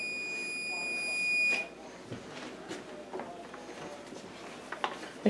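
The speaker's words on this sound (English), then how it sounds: "We just have our timer going off in the background." A kitchen timer going off while sugar is sifted for a unicorn cake, a high steady electronic beep tone lasting about a second and a half, followed by faint kitchen clatter and rustling.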